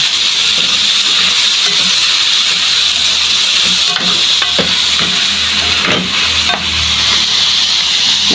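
Boiled string beans are stirred in a hot cooking pan, giving a loud, continuous sizzle and hiss with scattered scraping clicks from the stirring, up close.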